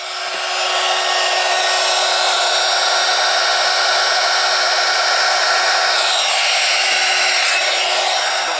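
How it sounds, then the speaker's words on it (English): Heat gun blowing a loud, steady roaring hiss without a break while heat shrink tubing is shrunk on wiring inside a 2005 Chevy Silverado during a blower motor control module replacement; close by, no voices. "I like using a heat gun."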